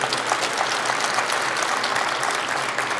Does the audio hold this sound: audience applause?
yes